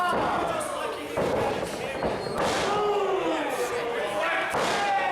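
Sharp slaps and thuds of pro wrestling chops and strikes land every second or so, loud and close, over an excited commentator and a crowd.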